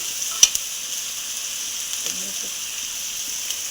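Chopped tomato frying with onion and ginger-garlic paste in a pan, a steady quiet sizzle throughout with a couple of brief clinks from a utensil.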